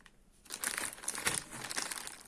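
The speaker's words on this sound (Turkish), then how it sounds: "O zaman paketi açıyorum." Plastic packaging for an octopus tripod crinkles and rustles close up as the package is opened, a brief burst of crackling that follows a quiet moment.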